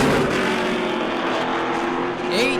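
A Pro Late Model race car finishes its qualifying lap at New Smyrna, a loud, steady engine roar held close throughout, with a brief pitch swoop near the end.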